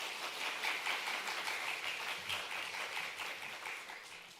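Church congregation applauding together during a Korean worship service, a steady wash of many hands clapping at moderate level throughout with no voices on top.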